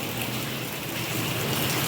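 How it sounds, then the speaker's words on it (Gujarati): Steady heavy monsoon rain pours down in an unbroken, dense hiss during a July downpour in Gujarat, with swollen streams nearby and no talking. "જોઈ લો, એક ધારો વરસાદ પડે છે."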